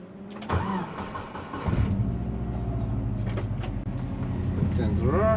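A Subaru XT with an APS Cannon exhaust and otherwise stock exhaust system cranks and fires up, then settles into a steady, close boxer idle rumble, with someone talking over it at times.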